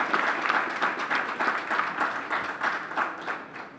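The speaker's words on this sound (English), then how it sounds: "Give them a round of applause," A modest room of people at a sports press conference gives a round of applause, rhythmic clapping at moderate distance that holds steady for several seconds.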